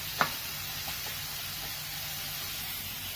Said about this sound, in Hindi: ये दो तीन मिनट फ्राई कर लें।